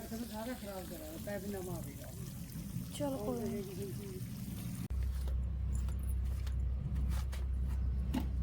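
A voice talks briefly, then water from an overhead tank starts gushing from a pipe in a steady, continuous rushing flow nearby, in a Punjab village.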